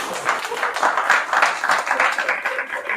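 Audience applause at a stand-up comedy show, a dense, steady wash of clapping that fills the whole stretch at an even, fairly loud level.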